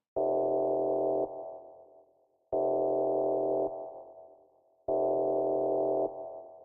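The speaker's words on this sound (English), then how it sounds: "Now what this actually sounds like is kind of more of a drone." Three repeated synthesizer notes in Reason 6.5.3 with the mod wheel all the way up, each a thick sustained drone that cuts to a fading tail before the next begins, played alone.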